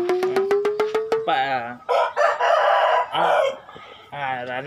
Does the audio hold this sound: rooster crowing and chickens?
yes